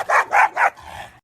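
A dog, Cupcake, gives three quick, sharp barks in a row, close and loud, followed by a fainter trailing yelp.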